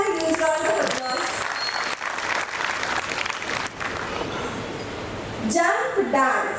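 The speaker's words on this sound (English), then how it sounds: "Please give everyone a huge round of applause." Audience applause at an annual function, a steady broad wash of clapping that runs loud and continuous for several seconds, with a brief break in the middle, and voices rising near the end.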